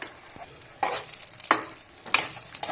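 Mughlai egg paratha frying in a pan with a steady, close sizzle broken by a few louder bursts of crackle as it is turned and moved.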